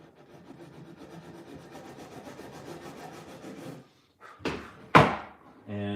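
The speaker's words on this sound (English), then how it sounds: "right now, I'm going over it with this sandpaper" Sandpaper rubs back and forth over a new guitar neck fretboard with installed frets, a soft rhythmic scratching at close range, followed by a few sharp louder knocks and scrapes near the end.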